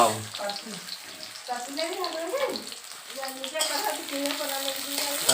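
Chopped onions fry steadily in a pan for a Sunday home meal, giving a continuous close-up hiss and sizzle with occasional stirring noises, while a voice talks over the cooking.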